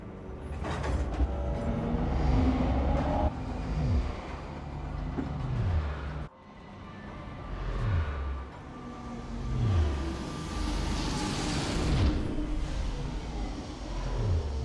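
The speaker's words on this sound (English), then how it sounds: "I'm surprised the tram actually works" A tram rolls through a station in the video game Alien: Isolation, with a steady mechanical rumble, clanks and sliding metallic squeals that rise and fall throughout, and no voices.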